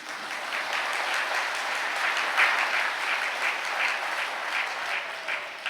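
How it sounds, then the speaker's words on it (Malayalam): Sustained applause from a church congregation at a Catholic gathering, steady and dense, the crowd clapping with raised hands for several seconds with no talk over it. "ഒന്ന് കൈ ഉയർത്തി കൈയടിക്കുക."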